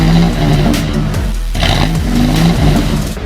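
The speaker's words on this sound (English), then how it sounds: "before handing off to a supercharged Godzilla topped with two of the largest, most violent turbos you can imagine" Custom 1969 GT500 Mustang with a supercharged twin-turbo engine revving loud and close, its low rumble rising and falling through several throttle blips over a steady heavy idle.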